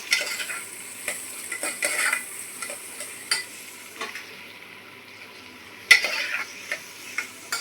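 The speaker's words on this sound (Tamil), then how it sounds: "வெங்காயம் கொஞ்சம் வதங்கட்டும்." Ground onions sautéing in a pan for chicken curry, with a steady soft sizzle under repeated scraping and clinking of a spoon against the pan, one louder clank standing out.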